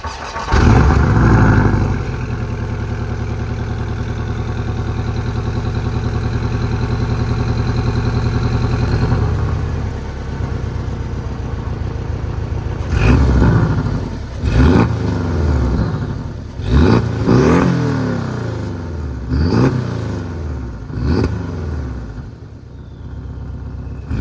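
A Porsche 718 Cayman GTS is started close by with a loud crank and catch, then a steady idle. It then revs sharply several times, with bursts that climb and fall in quick succession before settling back.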